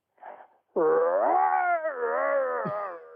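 A person imitates a Wookiee roar: a short grunt, then a long, loud, harmonic growling howl that wavers in pitch before breaking off.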